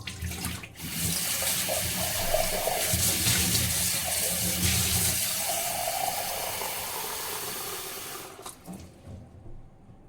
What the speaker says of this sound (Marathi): ह्या बांबूच्या झाडाला बाहेर काढून त्याचं पूर्ण पाणी बदलून टाकते पॉटमधलं